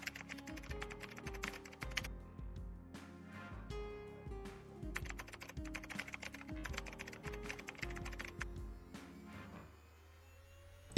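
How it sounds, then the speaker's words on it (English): Typing on a Chromebook keyboard, a close, quiet run of rapid key clicks in uneven bursts with brief pauses, ending in a short lull. "Press the search and alt keys together to activate caps lock."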